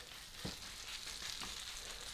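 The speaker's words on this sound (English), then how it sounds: "Not a large sizzle, just a perfect, nice, gentle sizzle" Gentle, steady sizzling of a potato cake frying in a pan, soft and continuous with a few faint crackles.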